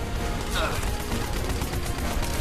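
Dense bursts of gunfire from the PC game Terminator Salvation fill the whole stretch as rapid overlapping shots, loud and continuous, with a voice audible underneath.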